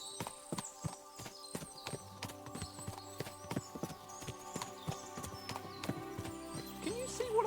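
Horses' hooves clip-clopping in the medieval game Kingdom Come: Deliverance II, a busy overlapping clatter of several horses walking on hard ground, fairly near, with faint whinnies and no speech.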